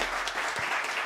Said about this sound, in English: We'd love to give a big round of applause to Richard Spencer.